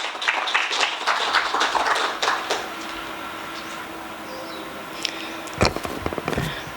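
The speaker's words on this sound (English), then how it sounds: "Give her a round of applause, please." Audience applause at the 4th Global CRVS and Gender Symposium: a busy burst of clapping that fades to a low murmur, followed by a few scattered, sharper claps near the end.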